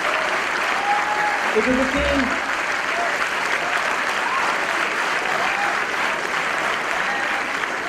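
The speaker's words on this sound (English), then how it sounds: "Another round of applause, ladies and gentlemen, for this fantastic team." A theatre audience applauds steadily for the team behind a staged play about Gandhi's trial, a dense, continuous wash of clapping lasting throughout, with a brief spoken voice heard over it.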